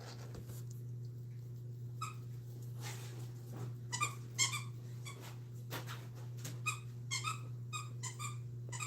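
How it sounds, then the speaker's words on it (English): A dog squeaks a small plush fox toy indoors, giving bursts of short, shrill squeaks that come in uneven clusters over a steady low electrical hum. "You guys hear Ziggy playing with his little squeaker fox toy?"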